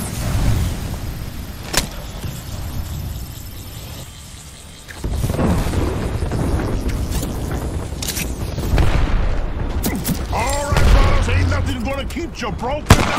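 Gunfire and booming explosions in a video game battle, loud and continuous, with sharp shots and rumbling blasts over the sounds of combat.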